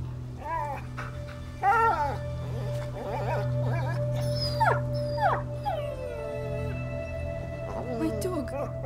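A dog in the A Plague Tale video game whimpers and howls in several drawn-out, wavering cries over a low steady hum, with brief yips between them.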